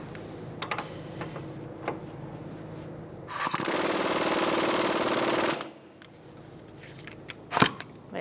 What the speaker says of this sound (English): We're going to take the caliper bracket bolts out now.